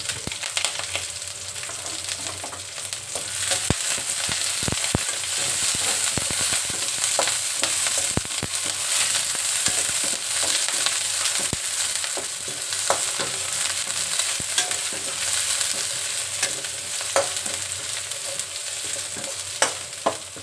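A potato kofta rice masala fries and sizzles in a pan under steady stirring, with a continuous hiss of hot oil broken by scattered spoon scrapes and clinks at moderate volume and no speech.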